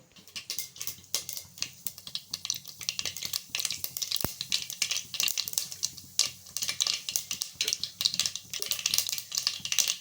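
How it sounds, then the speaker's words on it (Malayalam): Mustard seeds spluttering and popping in hot oil, a dense run of sharp crackles and pops that goes on steadily for the whole stretch, close and fairly loud, with no talking. "അങ്ങനെ കടുക് ഇതാ പൊട്ടിക്കൊണ്ടിരിക്കുക."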